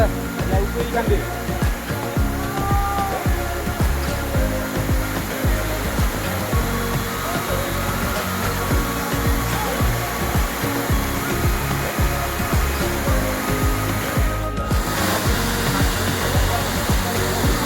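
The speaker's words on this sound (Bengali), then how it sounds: "ঝর্ণার এই প্রাকৃতিক ঝরঝর আওয়াজটা একবার শোনো, জল পড়ার ঝরঝর আওয়াজটা আলাদাই" The Changey Waterfall pours and splashes in a loud, unbroken roar of rushing water, close by and filling everything for the whole stretch, with voices faintly mixed into the noise.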